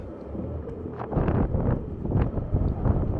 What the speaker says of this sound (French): Sur le toit, il y a un vent de malade.